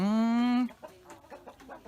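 Chickens on an egg-laying hen project for children: a drawn-out, rising squawk opens, then a string of short, choppy clucks follows at moderate distance.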